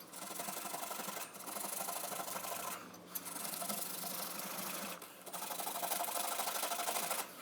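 Steady, harsh scraping of an abrasive across a metal drawer handle to age it, continuous and close, with a couple of brief pauses.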